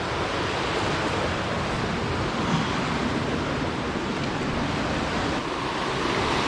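Rushing water of the Ausable River in the Adirondack Mountains, New York, a dense, loud, continuous roar of high water with no talk.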